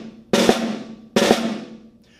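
Orchestral-style drag on a snare drum, the grace notes pressed into a short soft buzz that runs straight into an accented main stroke; two clean repetitions, close and ringing, with no other sounds.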